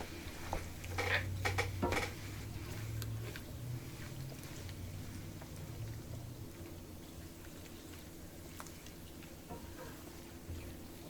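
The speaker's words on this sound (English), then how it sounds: "now I'm going to add the shrimp, cook the shrimp in the tomato sauce" Shrimp cooking in tomato sauce in a pot for Liberian jollof rice, with a few clinks of utensils against the pot early on, then a soft, steady simmer and faint stirring.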